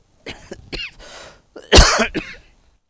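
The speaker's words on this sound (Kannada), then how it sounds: "ಡಸ್ಟ್ ಬಂದಾಗ ಕೆಮ್ಮು ಬರುತ್ತೆ" A series of harsh coughs and throat clearing close up, triggered by chalk dust, several short bursts ending in one loud, strained cough.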